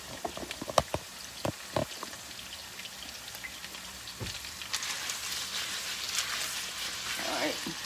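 Potatoes frying in a pan, a close crackling sizzle with scattered sharp pops that grows denser and brighter toward the end.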